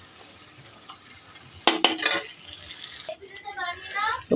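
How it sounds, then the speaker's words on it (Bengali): Onions frying and being stirred in a pan, soft sizzling under a few scraping stirs and clinks, with a voice speaking at points. "পেঁয়াজটা কষছি"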